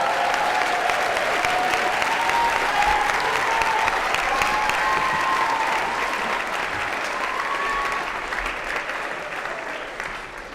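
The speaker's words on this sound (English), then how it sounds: "Let's give them one more round of applause." Sustained audience applause at a medical school ceremony, a dense, even clapping from a large crowd that fills the whole stretch and eases slightly toward the end, with no talk over it.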